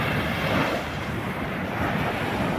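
Stormy river waves break on a sandy shore amid strong wind, a loud, continuous rushing roar with heavy wind buffeting on the microphone and no voices.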